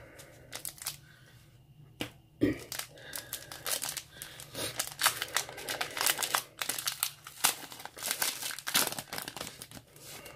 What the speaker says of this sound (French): on va s'ouvrir ces 6 boosters-là